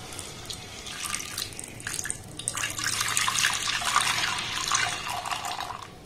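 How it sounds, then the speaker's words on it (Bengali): Liquid milk streams into a heated wok for a Rakshabandhan sweet, a steady splashing pour that swells and continues for several seconds without talk. "এবার এখানে সামান্য একটু আমি জল দিয়ে দেব, 2 কাপের মতো লিকুইড দুধ।"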